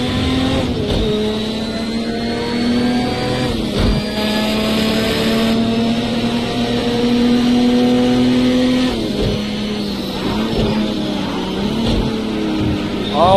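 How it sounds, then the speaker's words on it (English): Ferrari F40 race car engine in a Le Mans racing video game, a loud, sustained high-revving roar with rising and falling pitch through gear changes, continuous and close throughout. "Oh, this is a nice sounding car."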